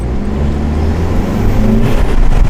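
Loud, nearby revving from an Audi A3 running an APR open intake, a sustained throaty engine drone that swells slightly toward the end.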